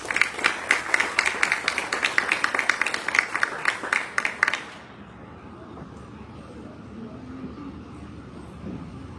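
An audience at a school board meeting claps in a dense burst for about five seconds to honor the Teacher of the Year, then the room falls to a quiet murmur.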